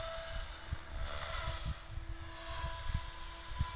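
An M4 RC helicopter flies smooth movements outdoors, its steady rotor whine and broadband wind-like hum holding at moderate level with faint low thumps throughout.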